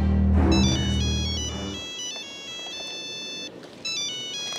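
Phone ringtone for an incoming call in a Bangla drama, a steady repeating electronic melody of bright tones after a brief low rumble at the start, no voices.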